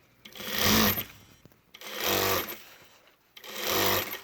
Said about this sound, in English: Let it sew up equally.